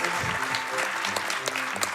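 Audience applause at the close of a Paper Mario: The Thousand-Year Door speedrun at Awesome Games Done Quick, a dense wash of clapping mixed with voices and cheers from the crowd.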